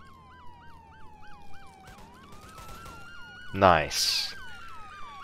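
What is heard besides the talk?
police sirens in Roblox game ER:LC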